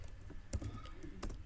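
Two crisp key presses on a computer keyboard, the Enter key struck about half a second apart, quiet and close against a faint room hush.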